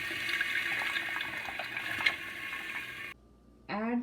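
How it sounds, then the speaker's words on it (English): Soaked dal for dal makhani tips into a pan with a continuous wet, splashy pour lasting a few seconds. A short silence follows, then a fresh burst of liquid sound. "Here goes our soaked dal."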